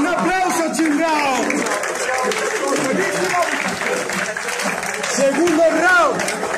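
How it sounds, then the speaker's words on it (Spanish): A crowd at a 2019 interschool freestyle rap battle quarterfinal claps and cheers loudly and steadily throughout, with shouting voices and whoops mixed into the dense applause. "¡Un aplauso, chingado!"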